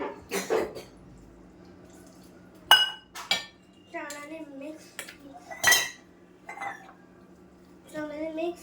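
A spoon stirs instant upma in a metal pot, making quiet intermittent scrapes and clinks. A voice speaks briefly between the stirring sounds.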